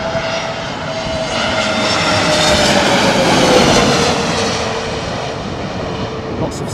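A fixed-wing aircraft climbing out overhead just after takeoff from an airfield, its engine roar swelling to a loud peak mid-pass and then easing off, heard alone.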